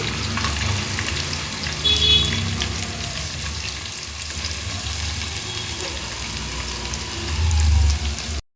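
Onions frying in a pan with ginger for a village-style chicken curry, a steady close hiss of sizzling oil that swells louder briefly near the end.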